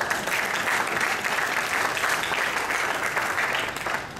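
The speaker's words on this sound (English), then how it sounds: "that's worth a round of applause" A round of applause fills a hall at a Georgia Asian American and Pacific Islander commission gathering, steady dense clapping from many hands that stays even throughout, then fades slightly at the end.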